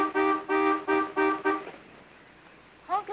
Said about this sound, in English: I'll bet you anything he honks for service and Elizabeth has to calm him down.